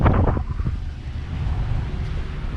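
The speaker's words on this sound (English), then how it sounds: "I don't know how much of this wind comes out in the GoPro." Wind buffets a GoPro microphone aboard a boat cruising from Don Juan to La Ventana, a loud, low rumbling roar with gusty surges throughout.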